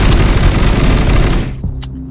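Dense, continuous automatic gunfire in the Unturned video game, a loud overlapping fusillade of rapid shots that cuts off abruptly near the end and leaves a faint tail.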